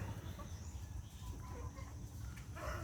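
Burmese chickens cluck softly in a coop amid a busy, low rumbling background, their calls faint and scattered across the few seconds.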